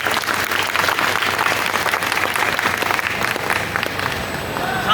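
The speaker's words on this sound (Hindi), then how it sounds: "इसके लिए जोरदार तालियां होनी चाहिए।" Audience applause at a public gathering, a steady dense wash of clapping that holds loud and unbroken for the full stretch with no voices over it.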